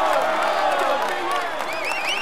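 A crowd at the Tour de France cheers and applauds loudly, with whistles and shouts rising over a steady roar of voices.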